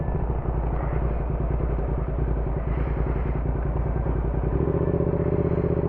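A motorcycle engine runs steadily at a close, constant throb, with the rhythm shifting slightly near the end as the ride gets under way, and no one speaks.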